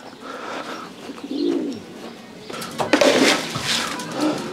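Racing pigeons cooing inside a pigeon loft, several soft throaty coos close by, with faint chirps and rustling in the background.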